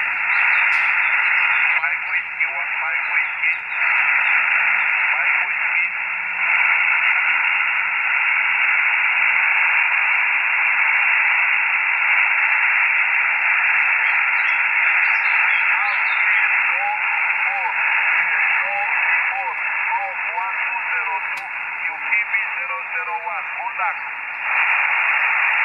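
Radio reception comes through a mobile antenna covering 7 to 54 MHz. Constant loud hiss and static fill the band, with faint, garbled transmissions breaking through the noise.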